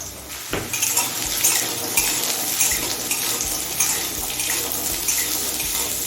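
Potatoes hit hot oil seasoned with black cumin, a dense, steady sizzle and crackle with occasional clinks of utensils against the pan, continuous throughout.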